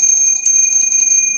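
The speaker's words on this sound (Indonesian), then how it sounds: "Dan suara lonceng yang tak henti-henti dibunyikan." A bell rings over and over as a horror-story sound effect, a steady metallic, sustained tone that holds without a break at full loudness, with a faint low rumble beneath it.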